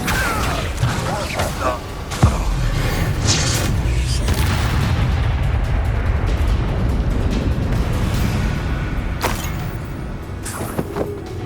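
Booming Confringo blasting-spell explosions in Hogwarts Legacy, a heavy crash followed by a rumbling roar and scattered pops, loud and close, with spoken voices over the battle noise.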